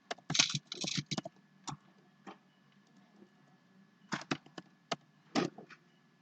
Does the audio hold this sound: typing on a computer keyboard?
yes